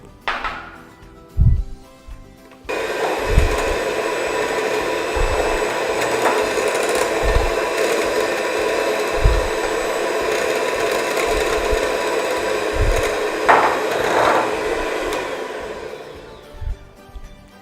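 An electric egg beater whirs steadily through chocolate chip dessert cream in a bowl, a continuous loud motor drone starting after a brief pause, with soft knocks of the beaters against the bowl.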